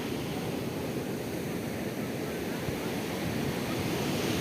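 Loud, continuous rush of sea surf breaking on a beach, mixed with steady wind buffeting the microphone.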